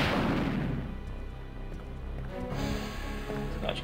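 A loud blast opens the clip, then trails off into a deep rumble, followed by fainter scattered pops of gunfire in Resident Evil 2.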